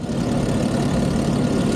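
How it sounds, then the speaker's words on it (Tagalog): A faulty motorcycle engine, the bike a Sniper, running noisily with a loud, steady low rumble that carries on without a break and no talk over it. "Akala ko naman yung isang motor ang maingay kanina Itong motor ko pala"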